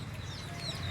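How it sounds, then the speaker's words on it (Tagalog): Chickens cluck faintly in a short moment on a farm, with no talk over the soft calls. "Yung mga manok nakatuka na"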